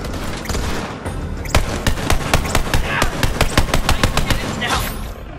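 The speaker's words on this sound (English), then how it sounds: "I'm starting to see a problem with this gun, and that's only because I run out of ammo for it way too quickly" Borderlands 3 gun firing in rapid automatic bursts, a dense run of sharp, evenly spaced shots in the second half over steady game background noise.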